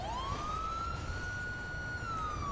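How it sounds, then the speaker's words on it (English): A police siren in GTA 5 rises in pitch, then holds a steady, unbroken tone close by, with no voices. "I'm gonna shut my siren off."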